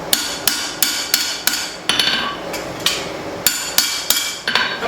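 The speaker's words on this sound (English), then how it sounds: "Just going to do some plenishing, and we got some stock removal to do." A hammer planishes a spring steel cleaver during forging, striking metal in a steady series of about twelve sharp, close, ringing blows at a regular rhythm, with no talk.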